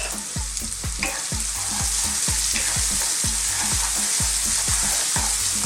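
Red onions fry in coconut oil with toasted spices, a loud, steady sizzle overlaid by a regular series of low thumps and taps from stirring in the pan.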